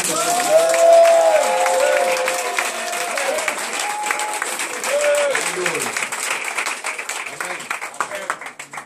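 A church congregation breaks into loud, sustained applause and cheering for Jesus, the clapping filling the room, with voices calling out over it before the clapping thins into scattered, uneven claps at the end.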